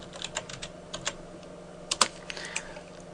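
Soft, quick keystrokes on a computer keyboard while working in Blender come in short irregular runs with a few sharper key hits, quiet and close, with no talking.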